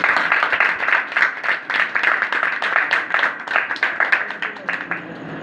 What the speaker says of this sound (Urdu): خدا کے جلال کے لیے زوردار تالیاں بجائیں